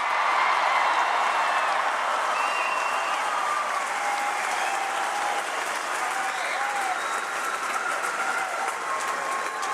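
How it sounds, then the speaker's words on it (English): Sustained applause from a large crowd at the Myers Park High School graduation ceremony for the class of 2026, dense and steady throughout with a roomy, hall-like wash. "Let's give one final round of applause for our Myers Park High School"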